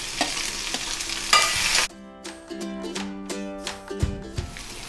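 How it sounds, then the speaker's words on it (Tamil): Onion, green chilli, crushed ginger and garlic frying in a pan, with steady sizzling and scraping stir strokes; the hiss is loud for the first two seconds, then drops to quieter sizzling with occasional utensil clinks. "வெங்காயம், இஞ்சி பூண்டு நல்லா வதங்கிடுது."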